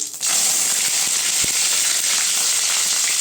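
Mustard seeds and curry leaves hit hot oil for a pumpkin stir-fry, bursting into a loud, sustained sizzle with faint scattered pops and crackles.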